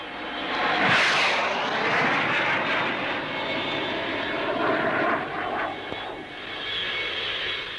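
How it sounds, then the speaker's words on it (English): A two-seat English Electric Lightning jet trainer roars past at the 1959 Farnborough air show. The engine noise is loud and sustained, swells as the aircraft passes, then fades slightly. "Another jet trainer is the 2-seater version of the English electric Lightning."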